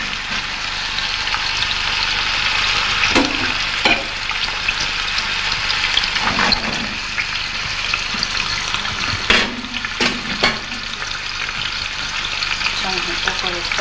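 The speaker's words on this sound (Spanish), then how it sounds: "lo ponemos para que empiece a dorar. Dejamos ahí un poco que dore." Food browns in a hot pan in a restaurant kitchen in San Salvador de Jujuy, giving off a steady, continuous sizzle with occasional stirring clatter.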